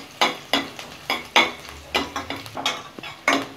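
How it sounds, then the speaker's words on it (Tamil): Green chilli sautéing in hot oil in a pan, a spoon stirring in regular scraping strokes about every third of a second, with a light sizzle underneath. "இதை வந்து ஒரு 2 நிமிஷம் மட்டும் நல்லா இந்த ஃப்ளேவர் உள்ள எண்ணெயில் இறங்குறது மாதிரி வதக்கிக்கலாம்."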